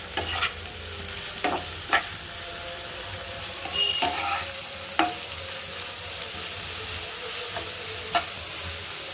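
Noodles are stirred through a little tomato sauce in a hot frying pan, giving a continuous soft sizzle. Sharp spatula clacks and scrapes come every second or two, close and clear, with no voices.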